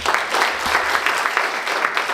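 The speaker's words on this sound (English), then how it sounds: "and to everybody else, round of applause." A crowd at a sickle cell disease and hemophilia conference claps together in a dense, continuous patter with light rhythmic pulses, fairly close and even throughout, with no voices over it.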